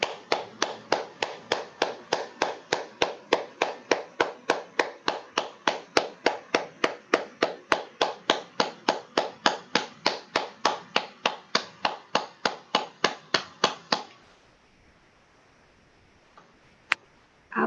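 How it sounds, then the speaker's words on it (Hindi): A group claps hands in unison at the close of a meditation session, about forty crisp, evenly spaced claps over fourteen seconds, then stopping into near silence with a couple of faint knocks. "ताली बजाएंगे।"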